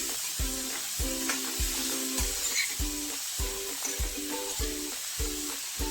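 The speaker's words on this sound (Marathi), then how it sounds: "आता त्याच तुपामध्ये मी किसलेला गाजर घालत आहे।" Grated carrot frying in ghee for gajar ka halwa, a constant close sizzle with regular scraping stirs about every half second, with no one speaking.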